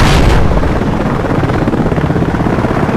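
A helicopter in the Battlefield Play4free game thunders loudly and up close. After an initial burst, its low rotor rumble carries on without a break, with no talk over it.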